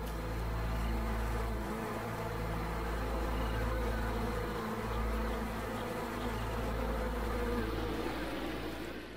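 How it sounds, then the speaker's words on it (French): Dense, steady buzzing of a honeybee swarm inside a hive in spring, a continuous close droning hum with no pauses and no voices. "À l'intérieur, l'essaim s'active en prévision de l'été."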